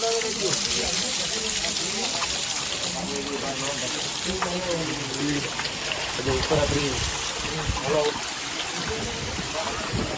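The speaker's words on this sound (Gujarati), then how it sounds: "સતત ને સતત જલની ધારા વહેતી રહે છે" A continuous stream of water splashes and trickles on Girnar mountain, a steady close rush under people talking nearby throughout.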